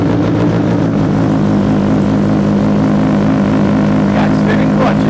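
A 2019 Kawasaki Ninja H2 with a clear clutch cover fitted runs close by, its engine a loud, steady, throbbing drone with a few brief sharper sounds near the end.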